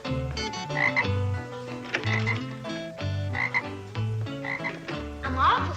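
A frog gives a steady series of loud, close croaks in a repeating rhythm, with no talk over them.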